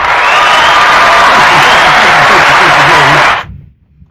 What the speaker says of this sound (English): we do got an applause